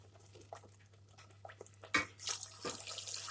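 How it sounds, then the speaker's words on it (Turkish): Water is poured into tomato puree in a jar while making tomato soup, giving close splashing and gurgling that starts with light trickles and grows fuller and louder toward the end. "Bu yarım kavanozun domates püresine arkadaşlar aynı bu ölçüde iki kıvamda su ekliyoruz."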